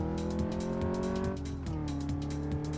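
A car in Car Mechanic Simulator 2015 with a clunky gearbox, its engine droning steadily and then dropping in pitch as it shifts, with faint rhythmic knocks underneath.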